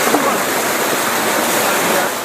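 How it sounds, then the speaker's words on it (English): Water rushes steadily through pipes at a stream weir at La Selva Biological Station, a loud continuous roar like a waterfall heard up close, with no talk in this stretch. "During construction, all the water is coming through these pipes instead of over the top."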